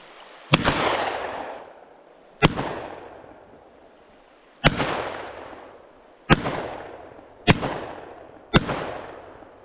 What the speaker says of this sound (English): We are going to shoot directly to air, just in case.